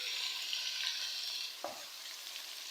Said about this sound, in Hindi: अब हम इसमें ऐड कर देंगे टमाटर।